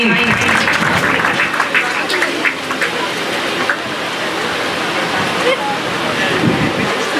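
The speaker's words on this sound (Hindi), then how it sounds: "बच्चों आप लोग ताली बजाओ जब किसी को पुरस्कार मिल रहा है तो।" Children clapping together at a school award ceremony for Teachers' Day, a broad, steady wash of applause that holds through the whole stretch, with adult speech over the top.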